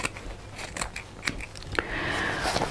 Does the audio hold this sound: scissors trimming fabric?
yes